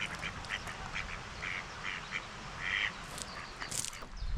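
Ducks quack by a river on a quiet morning in Lathkill Dale, a series of soft, fairly distant calls in irregular clusters over a low outdoor rumble.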